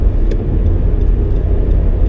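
A 2019 Nissan Sentra base model engine pulls hard while merging onto a highway, a loud, steady low rumble with road noise heard from inside the cabin.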